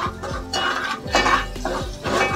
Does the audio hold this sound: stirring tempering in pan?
yes